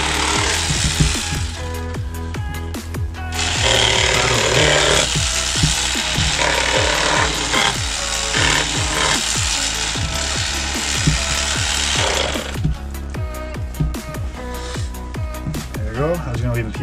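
An electric knife buzzes steadily through a whitefish fillet, a loud, close mechanical drone with a ratcheting rattle that runs almost the whole time, dipping briefly near the start and easing toward the end.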